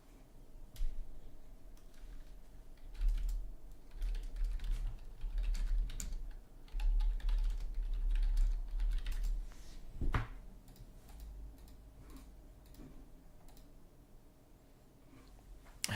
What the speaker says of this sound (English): I'm just typing to some of my friends.